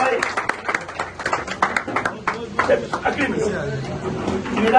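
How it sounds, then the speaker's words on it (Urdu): Applause at a medal ceremony: uneven clapping from a gathered audience, sustained in bursts with someone talking over it throughout. "تالیاں بجتی رہنی چاہیے، یہ آنر ہے"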